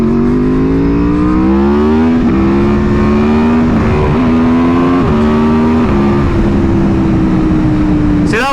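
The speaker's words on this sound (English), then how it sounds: "I'll do a little pull, and I'll probably wheelie through like 3 gears" An Aprilia Tuono motorcycle pulls hard through several gears while wheeling, its loud engine note climbing in rising sweeps broken by brief drops at each shift, all heard up close with wind buffeting.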